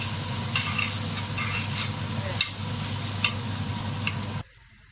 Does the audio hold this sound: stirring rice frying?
yes